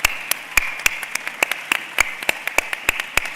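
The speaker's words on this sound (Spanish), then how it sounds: "un aplaudiment per ella" Applause for Judit Carrera, director of Barcelona's Centre de Cultura Contemporània, comes as sharp, evenly spaced claps in a quick regular rhythm, sounding like a small group clapping close by in a quiet room.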